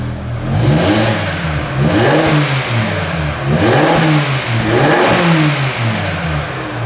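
A car engine with its exhaust valve closed revs repeatedly in four rising-and-falling pulls, each a steady surge of mid-pitched roar, loud and close.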